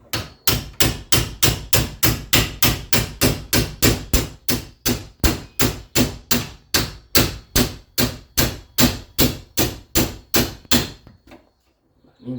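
A pin punch is struck with a hammer to drive the piston out of an Echo SRM 2090 brush cutter, giving a long steady run of about thirty loud, close metallic blows in even rhythm before stopping.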